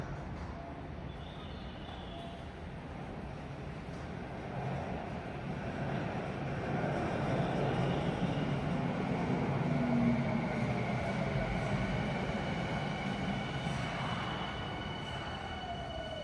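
A Tokyu Toyoko Line train at Hiyoshi station rumbles steadily along the platform, the roar swelling in the middle and easing off toward the end, with faint whining tones over it.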